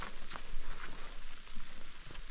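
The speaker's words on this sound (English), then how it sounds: "Listen to that rain." Steady rain patters on a woodland campsite in Woodland Caribou Provincial Park, a soft continuous hiss of drops with no voices.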